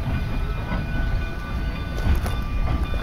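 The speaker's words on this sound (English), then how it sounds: "let's go follow the train" A train rolling along rails nearby, a loud continuous low rumble with wheel clatter and faint squealing tones, swelling slightly as it passes, with no talking.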